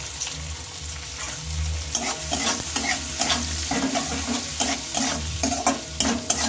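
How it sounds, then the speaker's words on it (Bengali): Chopped onions and two green chillies fry and sizzle in hot oil left over from frying eggs, with steady crackling and repeated scraping stirs close up, no voices. "পেঁয়াজটা একটু ভালোভাবে ভেজে নিতে হবে।"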